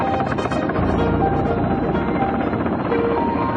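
A Soviet Mi-26 heavy transport helicopter roars loud and close, its engine and rotor noise a dense, steady wash with a constant whine running through it, and no voices.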